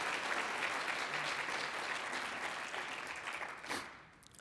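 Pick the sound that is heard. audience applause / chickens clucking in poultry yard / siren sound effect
audience applause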